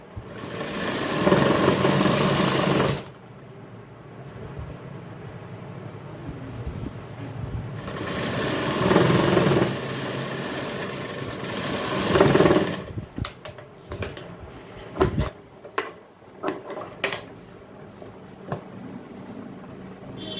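An electric sewing machine stitches a 34-inch jacket in two sustained, fairly loud runs a few seconds long, separated by quieter pauses, followed by scattered clicks and handling noises of fabric being shifted.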